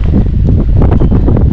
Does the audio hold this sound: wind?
yes